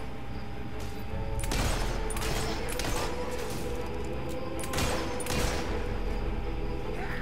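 Gunfire aimed at the player in the video game Fable 3, heard as scattered bursts of shots over a dense, noisy battle backdrop, with stronger volleys around the middle and near the end.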